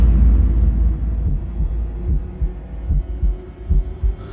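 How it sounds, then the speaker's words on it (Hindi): Heartbeat sound effect in a Hindi audio drama: a low, muffled thudding pulse beneath a deep rumbling hum, fairly loud and steady, with no talk. "मैंने इसकी धड़कनें सुनी है, राहुल जिंदा है, इसका दिल धड़क रहा है।"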